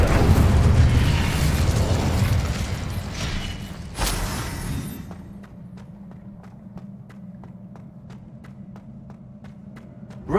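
Incendio fire spell from Hogwarts Legacy, a loud roaring burst of flame that fills the first few seconds, flares once more near the fourth second, then gives way to a low hum with a steady run of light ticking taps.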